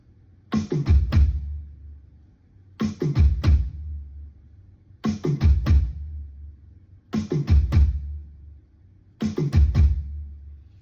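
Five quick drum fills spaced evenly, each a rapid triplet of snare hits ending on a deep kick drum, with brief pauses between.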